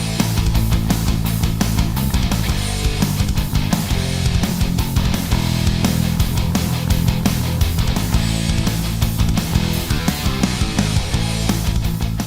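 A loud, dense metal guitar riff in A harmonic minor plays with bass and drums added, a steady driving full-band mix with pounding low end that continues without a break.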